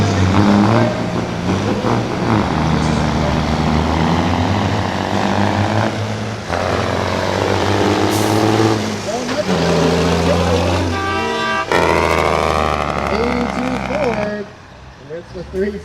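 Diesel semi trucks with a 350 Cummins and a Detroit engine in a cab-over International drag racing, loud roaring engines and turbo whine revving up and fading, with a commentator talking over the noise.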